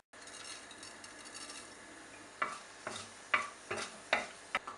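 Dried red chilies and a pinch of cumin sizzle in a tablespoon of hot oil, a faint steady crackle under several sharper pops and stirring clinks near the end, with no voices.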